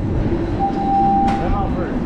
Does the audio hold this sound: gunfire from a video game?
no